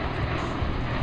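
Boeing C-17 military transport aircraft flying at an airshow, a steady broad engine roar filling the whole clip at moderate distance with no voices.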